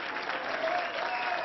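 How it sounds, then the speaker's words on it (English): Applause and cheering from a rally crowd at an indoor political campaign event in Ohio, a dense steady wash of clapping hands lasting throughout, loud and close with no talk over it. "Cheering section back there."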